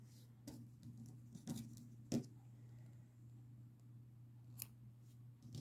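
Scissors snipping blue yarn during crochet work on a toddler shirt, a few quiet, crisp snips over a low steady hum in a calm room.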